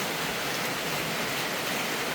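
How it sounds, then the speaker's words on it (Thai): Heavy storm rain pours down in a steady, dense, unbroken hiss, close and even throughout with no other sounds. "ฝนตกพายุข่าวอีกแล้วเนาะ"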